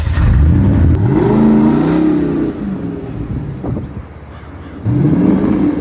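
A Mustang's engine revs hard while driving in an open-world video game, a loud rising whine that surges, drops back mid-clip and climbs again near the end, with no talking over it.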